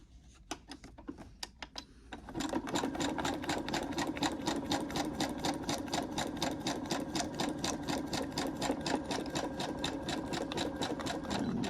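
A sewing machine stitches through paper. A few sharp clicks come first, then a fast, steady, close mechanical stitching rattle runs continuously to the end.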